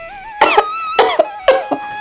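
A person coughs three times in quick succession, each a loud close harsh burst with a short follow-up catch, set against a faint steady musical tone.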